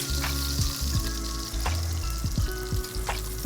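Ground beef sizzles and fries in hot pork fat in a pot as it browns for Bolognese, a steady loud crackle broken by repeated scraping and stirring strokes.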